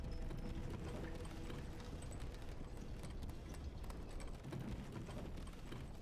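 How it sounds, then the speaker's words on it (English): Rhythmic hoof clip-clops of a horse in the video game Elden Ring, steady and fairly close, with mechanical clanks in the game soundscape and no talking. "No giant horse, but giant dude on a tiny bee horse."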